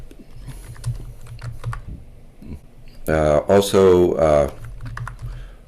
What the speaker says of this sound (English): So I'm typing it in now,